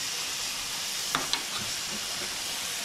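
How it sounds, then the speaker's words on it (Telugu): Fish pieces sizzle as they fry in oil for a fish curry, a steady faint hiss with a few brief pops and crackles near the middle, with no voices. "ఇది వచ్చి ఫ్రై అవుతున్నాయి చూడండి ముక్కలు"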